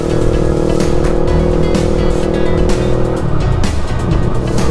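A car tears around an endurance course in Santol, La Union, jumping as its tires squeal, with a loud, continuous engine roar close by.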